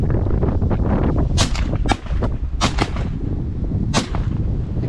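Shotgun blasts ring out at flying geese during a goose hunt in Sweden, as several loud, sharp reports come in quick succession over windy outdoor noise, close to the listener.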